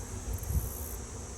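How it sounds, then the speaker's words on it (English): Honey bees fly around an opened beehive, a close, continuous buzzing hum with a brief louder swell as one passes near. "we have a lot of bees flying around"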